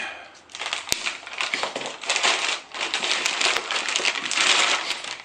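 The box of a Van Staal VR50 fishing reel is being opened up close, with crinkly, papery rustling and crackling bursts, a few sharp clicks and taps, and a soft voice faintly underneath.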